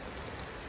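Steady rain patters outdoors during mushroom picking in a September forest, a soft continuous hiss, moderately close and even, with no talking.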